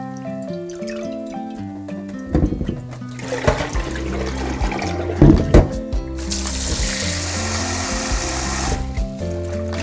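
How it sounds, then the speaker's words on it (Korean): Running tap water filling a bowl and splashing as shepherd's purse greens are washed in a kitchen, steady close water flow with handling noise and a louder rushing stretch near the end, no talk. "냉이를 세척해 보도록 할게요. 우선 볼에 물을 담아 주시고요"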